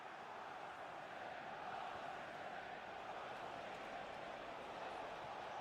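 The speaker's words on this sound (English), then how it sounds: "the crowd are willing them to score here" Stadium crowd in an eFootball match between Manchester City and their opponents, a dense, continuous roar of many voices that holds steady throughout at moderate level with no clear peaks.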